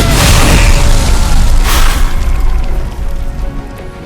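Grenade blast in a Marvel video game, a loud, dense boom that fills the opening seconds, flares once more near the middle, then rumbles and fades slowly.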